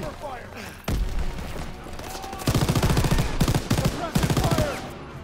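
Rapid machine-gun bursts of suppressive fire in Call of Duty WW2 combat, loud repeated volleys starting after a pause and growing denser, with shouted voices mixed among the shots.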